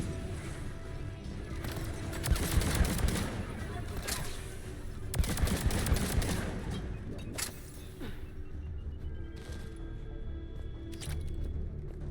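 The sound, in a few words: gunfire from a gun in the video game Mass Effect 3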